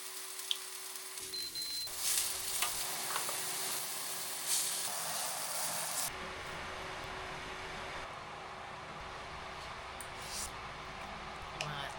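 Leftover pancit canton being recooked in coconut oil, a steady close hiss and sizzle that runs throughout, briefly quieter at the start and thinning slightly partway through.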